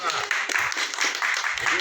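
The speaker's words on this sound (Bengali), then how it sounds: "সো আমার মনে হয় জোরে হাততালি হোক বিপ্লবদা।" An audience at a press meet for a Bengali TV serial claps, a brief burst of dense, fairly close applause lasting a couple of seconds.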